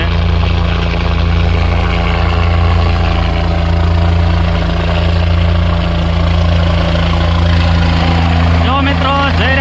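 A helicopter lands at a family celebration, its heavy engine roar and rotor drone loud and steady from start to end, with the crowd and talk partly buried beneath it.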